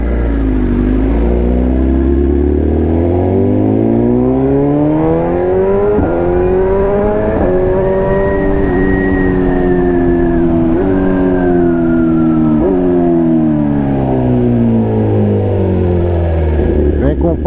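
A BMW S1000 RR motorcycle engine revs repeatedly, its pitch rising and falling in long loud sweeps up close, with voices talking over it.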